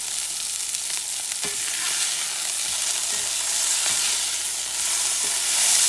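Hamburger steak patties fry in a pan. Loud, dense sizzling holds steady throughout, with a few soft knocks and no talking.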